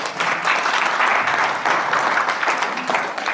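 Audience applause at a San Diego seminar event, a lively burst of many hands clapping together at close, loud level, sustained throughout without speech.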